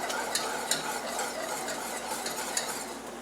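Steady scraping and stirring of a thick jalapeño bacon mac and cheese sauce in a pot, with a few sharper utensil knocks against the pan over a continuous close-up swish.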